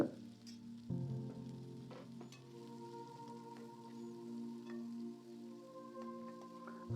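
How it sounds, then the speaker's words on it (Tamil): Onions sizzle softly in hot oil, a faint, continuous frying crackle with occasional stirring sounds. "வெங்காயம் நல்லா வதங்கினங்க"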